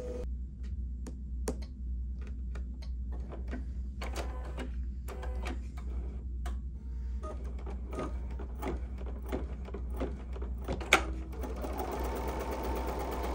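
An embroidery sewing machine stitches a placement line on stabilizer for a drawstring bag project, with a steady low motor hum and quick, evenly spaced needle ticks running throughout, near and unaccompanied by speech.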